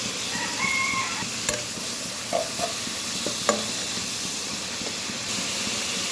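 Garlic paste frying in oil for a red amaranth greens recipe, a constant steamy sizzle with scattered clinks and scrapes of stirring, one sharper knock midway.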